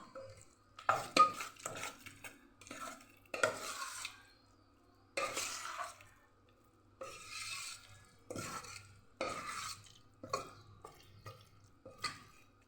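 A spoon works through a semolina and vegetable batter in a bowl after a little water is added, making repeated wet, squelching stirring strokes in short bursts separated by brief pauses, close and moderately loud.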